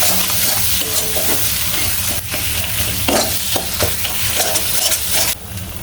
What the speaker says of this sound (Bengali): জল দিয়ে মশলাটাকে সুন্দর করে কষিয়ে নেব